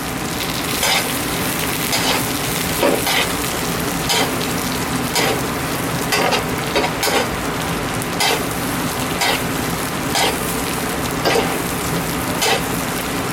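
Salmon fries in browning butter with thyme, a steady dense sizzle and crackle close up, with periodic spitting pops from stirring or basting and no talking.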